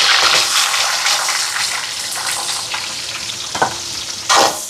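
Cumin, curry leaves, dried and green chillies and onion sauté in a hot pan, giving a loud, dense sizzle with scraping stirs, fading slightly before a couple of brief louder surges near the end.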